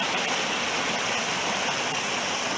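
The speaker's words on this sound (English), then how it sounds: "all this granite and these little just clean running streams" A small, clean mountain stream tumbles over granite in little cascades, producing a close, steady, bright rushing and splashing with no speech.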